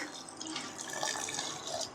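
Water poured into a mixer jar of grated coconut with cardamom while making coconut milk, a soft, steady splashing trickle, close and fairly quiet, with no talking.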